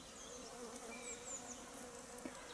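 Forager honeybees buzz at an apiary hive during spring swarm splitting, a soft continuous hum of many wings with a few individual bees passing close.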